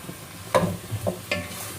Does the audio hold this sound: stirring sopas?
yes